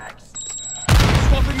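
Burst of gunfire in a Call of Duty Modern Warfare 2 team deathmatch: after a short stretch of quiet game sounds with a faint electronic tone, a loud, dense volley of shots erupts and continues.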